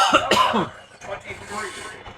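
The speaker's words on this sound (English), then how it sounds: "I don't know why I'm coughing so much" A couple of quick, harsh coughs come right at the start, followed by someone speaking.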